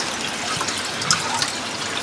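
Spring water pours steadily into containers, a close, continuous splashing gush with a faint trickling sparkle on top, no voices.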